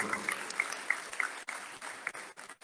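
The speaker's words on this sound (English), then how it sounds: "Let's give Stefan a round of applause." An audience at a university technology innovation challenge claps for a presenter, a short burst of steady applause with a few louder claps standing out.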